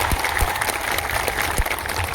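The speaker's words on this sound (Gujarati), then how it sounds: "જોરદાર તાળીઓ પાડી લઈએ" Crowd applause at a political rally, a steady wash of clapping from a large gathering with a few sharper claps standing out, carrying on without voices over it.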